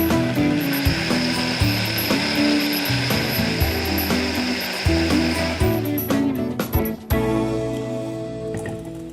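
A blender whirs cashews into a smooth cream, grinding loudly and steadily with a choppy, clattering texture for several seconds, then easing into a lower, smoother drone near the end.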